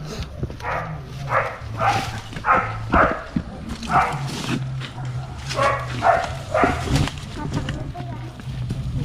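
A dog barks in short repeated bursts over a steady low hum, with people talking nearby.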